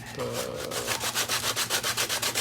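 Sandpaper on a block rubbed back and forth over wood during a 1920 parlor guitar rebuild, a close, rhythmic scratchy rasp with regular strokes speeding up, alone without talk.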